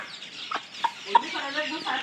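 Chickens and chicks cluck in short bursts close by, with a few soft higher cheeps in between over a quiet background.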